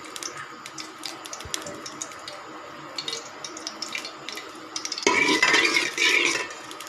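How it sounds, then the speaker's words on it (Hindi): A full spoonful of ghee goes into the pot for Punjabi karhi pakora masala: light spoon-and-pot clinks at first, then a louder, denser burst of sizzling and scraping for the last couple of seconds. "ये 1 चमचा जो भरा हुआ है ये हम घी का इसके अंदर डालेंगे।"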